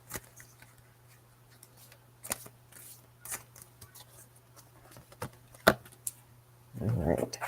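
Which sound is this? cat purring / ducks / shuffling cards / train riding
shuffling cards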